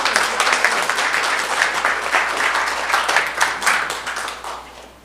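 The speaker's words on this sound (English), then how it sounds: "Let's give him applause" Audience applause at a school district board meeting, a steady round of clapping with a slightly uneven, pulsing texture that gradually tapers off toward the end.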